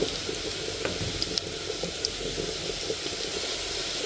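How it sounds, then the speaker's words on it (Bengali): Potatoes for biryani fry in a pan of hot oil, giving a steady close sizzle and crackle with small pops and occasional stirring scrapes, no talk over it. "দেখুন কত সুন্দর লাগছে এটা ভাজা হয়ে এসেছে আমি আর একটু ভাজবো"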